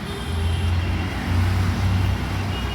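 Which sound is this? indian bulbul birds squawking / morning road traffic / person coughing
morning road traffic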